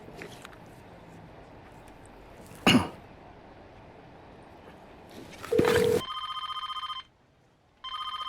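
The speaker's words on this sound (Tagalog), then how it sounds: "Evelyn, kanina pa ako tumatawag Bakit hindi mo sinasagot" An incoming call rings on a telephone as a repeating electronic tone that starts after a sharp cough and a louder burst, pauses briefly, then resumes.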